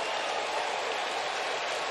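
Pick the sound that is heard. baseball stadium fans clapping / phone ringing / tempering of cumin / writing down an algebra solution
baseball stadium fans clapping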